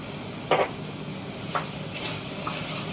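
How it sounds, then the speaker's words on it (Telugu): Shallow frying in a pan with a little oil while tempering turmeric and asafoetida for gongura dal: a soft, steady sizzle with a few brief stirring scrapes, close by and fairly quiet. "ఇదిగోండి, ఇలా వేయించేసుకోవాలి. చూపిస్తున్నా చూడండి, అడుగు పట్టకుండా చక్కగా ఇలాగా వేయించుకోండి."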